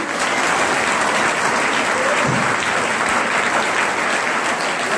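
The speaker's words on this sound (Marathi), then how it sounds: "टाळ्या इतक्या जोरात पडल्या पाहिजे की स्टँड पर्यंत ऐकू गेल्या पाहिजे" Loud sustained applause from a large audience at a district-level talent hunt and poster competition prize ceremony, dense continuous clapping filling the whole stretch with no pauses.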